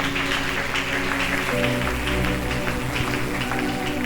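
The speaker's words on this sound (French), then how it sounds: "On acclame très fort pour le Seigneur." A church congregation applauds and cheers for the Lord in a steady, dense wash of clapping and voices that holds throughout, with music sustained underneath.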